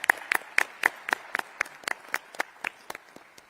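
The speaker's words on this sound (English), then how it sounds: "That's some applause" Sparse, individual hand claps from a small audience at a community anniversary celebration, about a dozen distinct claps in an uneven rhythm, fairly faint and with no talking over them.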